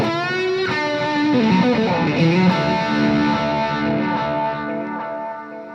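Electric guitar plays a short melodic phrase with a few chords through a warm, slightly overdriven amp's vintage channel with no compressor, notes ringing and sustaining at the end.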